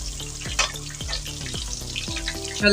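Lahori chargha chicken frying in hot oil, a continuous crackling sizzle with repeated low knocks and clatters from handling in the pan, fairly close and alone without talk.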